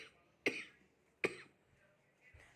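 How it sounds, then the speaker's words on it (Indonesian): A woman gives two sharp, separate coughs close to the microphone, with quiet pauses between them and faint rustling after. "ibu agak batuk sedikit."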